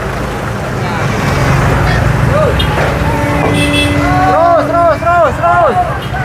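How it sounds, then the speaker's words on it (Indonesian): A dump truck drives in on an outdoor work site near a demolished bridge, its engine rumbling steadily in the background while people talk and several horn-like or squeaking tones chirp repeatedly toward the end. "Dam truk masuk lagi"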